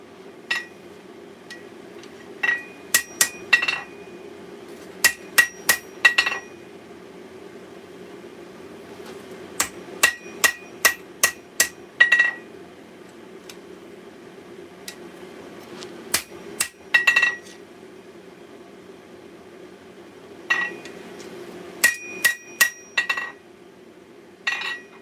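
Sharp metallic hammer strikes ring out on a small Bowie knife blade being forged, coming in quick bursts of several blows separated by pauses, each with a bright clinking ring over a low steady hum.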